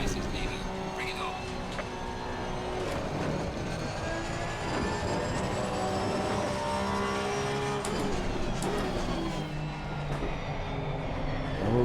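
Race car engines at Brands Hatch in Assetto Corsa Competizione, a steady droning roar of several cars with rising and falling engine pitch through gear changes, continuous throughout.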